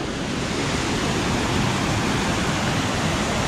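Spray Falls, a tall waterfall plunging from high above on Mount Rainier, roars as a steady, loud, broadband rush of falling water with no breaks or voices.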